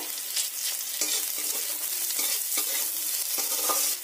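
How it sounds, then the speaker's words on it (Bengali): Onions with a cracked green cardamom pod frying in oil, a continuous bright sizzle with small spatters and occasional stirring scrapes, close and steady. "পেঁয়াজগুলো হালকা ভাজা হয়েছে, এর মাঝখানটা একটু পাক করে ওই তেলের ওপর দিয়ে দিতে হবে"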